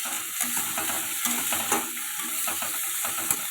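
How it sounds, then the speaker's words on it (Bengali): Bay leaf, whole garam masala spices and chopped onions stirred in hot oil for paneer biryani, a steady close sizzle marked by repeated light spatula scrapes and clicks against the pan, with no speech. "ওই তেলের মধ্যেই আমি তেজপাতা গোটা গরম মশলা ফোড়ন দিয়ে ওটাকে নাড়াচাড়া করে ওর মধ্যে কেটে রাখা পেঁয়াজগুলো দিয়ে দেব"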